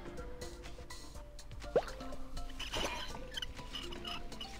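Single bright water droplet plop with a quick rising chirp in the mobile puzzle game Where's My Water 2, standing out briefly over a busy bed of faint game sounds and small clicks.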